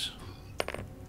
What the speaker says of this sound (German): Eine Münze.